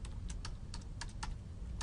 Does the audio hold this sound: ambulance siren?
no